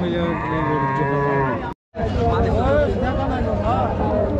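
Cattle low loudly and close at a busy cattle market in Rajshahi, long sustained moos with a brief break, then overlapping moos against crowd murmur and talk.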